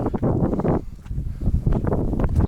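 Wind buffets a Sony FDR-X3000 action camera microphone in gusty rumbling bursts, loud and close, with a brief lull partway through.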